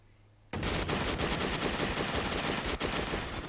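Dense, continuous gunfire from a Watch Dogs shootout bursts in suddenly and stays loud, with rapid overlapping shots including shotgun blasts.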